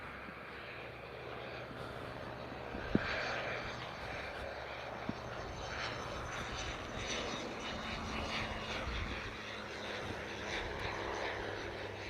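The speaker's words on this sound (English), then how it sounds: "Wow, that plane is a little low." An airplane flies low overhead near an airport, a steady broad engine roar of moderate loudness sustained across about twelve seconds, alone without talk.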